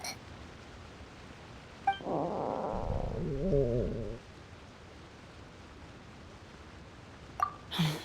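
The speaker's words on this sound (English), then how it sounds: "That would be my stomach growling." A stomach growls in the video game Genshin Impact, a single low gurgling rumble lasting about two seconds, fairly close and alone between quiet game background sounds.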